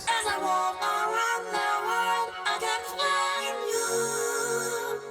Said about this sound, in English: Yeah, I added some chorus effect and I kind of layered it.